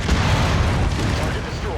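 An enemy mech blows apart in the MechWarrior 5: Mercenaries video game, a deep, rumbling in-game explosion that booms and rolls on for under two seconds.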